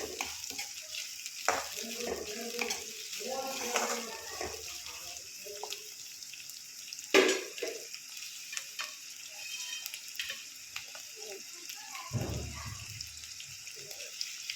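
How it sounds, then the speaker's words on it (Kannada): Onions fry in a pan for an egg curry, a soft steady sizzle under intermittent scraping and stirring strokes, with one sharper clack of the utensil midway. "ಈರುಳ್ಳಿ ಹಾಕಿದಾದ್ಮೇಲೆ ಇದನ್ನು ಫ್ರೈ ಮಾಡ್ಕೊತಾ ಇದ್ದೀನಿ."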